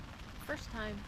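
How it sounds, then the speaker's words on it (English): Steady patter of rain drums on a tent at a hilltop campsite in Figueira da Foz, Portugal, close and continuous, with a short spoken phrase over it. "That's the sound of rain on a tent."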